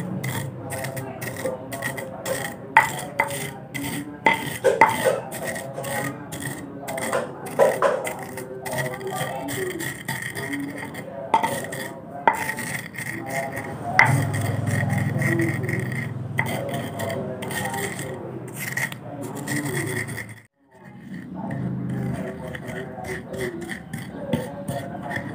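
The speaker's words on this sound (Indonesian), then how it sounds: "kita haluskan dulu mie instannya" Instant noodles crushed fine by hand to make bait for tawes fish, giving a dense run of close, crisp crackling and crunching, with brief pauses near the end.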